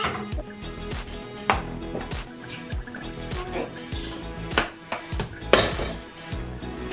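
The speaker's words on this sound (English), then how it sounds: "Gonna drain my veg" Cooked vegetables are drained in a pan in a home kitchen, with metal pots clanking and scraping, the clatter of utensils and brief splashy rushes of water, close and busy.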